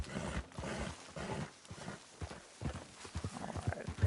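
Horse hooves clip-clop in a video game, producing a fairly close, uneven run of clopping steps that continues steadily throughout, with no talking over it.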